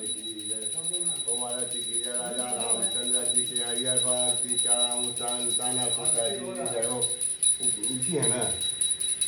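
A small puja bell rings steadily during aarti at a home Satyanarayan puja, its bright ringing continuous under a group of voices singing and talking throughout.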